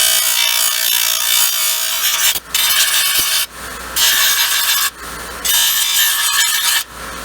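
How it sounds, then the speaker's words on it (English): Wood being ground down with a power tool, loud abrasive bursts of about a second each, separated by short pauses, with no talking. "I'm just going to grind that down."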